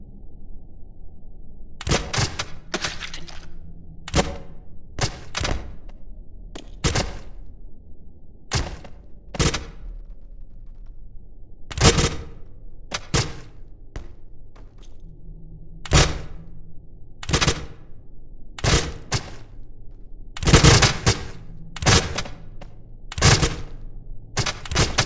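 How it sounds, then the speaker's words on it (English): Repeated sharp impact clicks from a crossbow being fired at a melon in the game Melon Playground, irregularly spaced bursts, some in quick clusters, over a quiet low background hum. "Number 12, shoot with crossbow."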